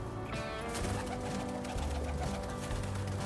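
Racing pigeons coo softly in a loft amid a dense backdrop of rustling and fluttering, several birds close by in an enclosed space, with no talking.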